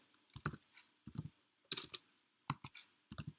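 Bursts of key clicks from a computer keyboard, typed in short quick clusters separated by brief pauses, close and moderately quiet with no talking.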